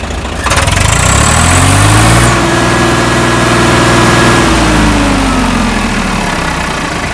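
A tractor engine at a rural tractor market cranks on its electric self-starter and catches, then settles into a loud, steady close-up idle with a low rumbling drone.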